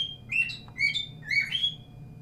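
A bird chirps in short bright bursts, three clustered calls spread over two seconds, fairly close and clear above a low steady hum indoors, with no talking.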